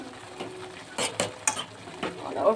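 A spoon scraping and clinking as Maggi noodles are stirred in a pot, a few short irregular strokes close by with quiet gaps between them and no talking.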